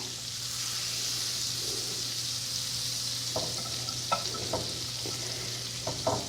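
Herb butter sizzles steadily in a pan on the stove, a constant broadband hiss with a low hum beneath, while a utensil stirs it and scrapes the pan in several distinct strokes toward the end.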